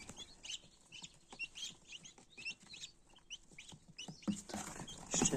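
Soft, high peeping and cheeping of young chicks, a busy overlapping chorus of small calls, close by with some rustling near the end.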